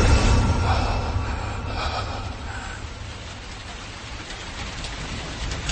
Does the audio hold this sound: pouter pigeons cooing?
no